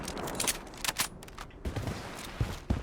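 Gunfire from a Scarlet gun in a shooter video game, a few sharp bursts and single shots spread across a short stretch, fairly loud against a noisy background.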